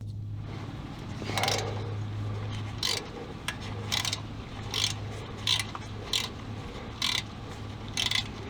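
A ratchet tightens the front shock on a Ford Explorer, with repeated short clicking bursts of the pawl at a steady cadence in a quiet garage over a low hum.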